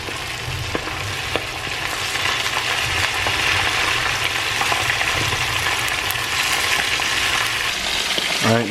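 Steady crackling sizzle of food frying in hot oil, continuous and close, with a few sharp pops and clinks along the way.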